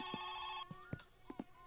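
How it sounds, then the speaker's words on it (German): An indoor telephone rings briefly with an electronic warbling tone, clear at first then cutting off after under a second, followed by a few faint clicks and thumps. "Klingt natürlich gleich mal das Telefon."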